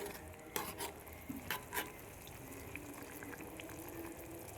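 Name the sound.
stirring fish curry masala in a pan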